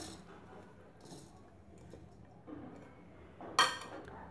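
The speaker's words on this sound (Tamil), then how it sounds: "இப்போ இந்த பழத்தை சேர்த்துக்கலாம்." Lemons go into a dry clay pot with salt in the bottom for pickling, heard as quiet shuffling followed by one sharp, close clunk near the end in an otherwise hushed kitchen.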